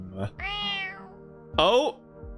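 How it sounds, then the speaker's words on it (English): A cat meows twice in the Kamikaze Lassplanes video game, a long drawn-out meow followed by a shorter rising one, both close and clear over a low steady background hum. "a familiar meowing catches my attention"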